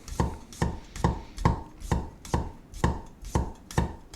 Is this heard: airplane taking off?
no